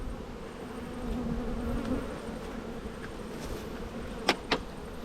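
Honeybees hum steadily around an open hive during a beekeeping queen inspection, a soft continuous buzz throughout with two brief sharper knocks near the end.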